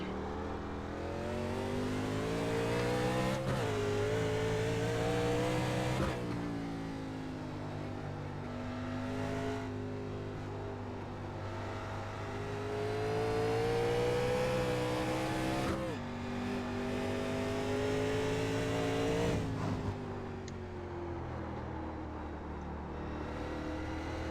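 A 1987 NASCAR Legends race car in iRacing at Sonoma drones and revs continuously, its engine pitch rising and falling through gear shifts and corners, with a driver talking over it.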